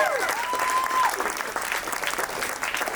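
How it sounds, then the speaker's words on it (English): Wedding guests break into loud, sustained applause for the newly married couple, a dense wash of clapping filling the room from start to finish, with cheering voices and a whistle rising over it early on. "Give them a big round of applause, brother"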